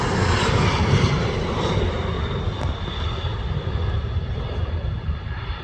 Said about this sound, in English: looks like the Osprey is about to land at RAF Mildenhall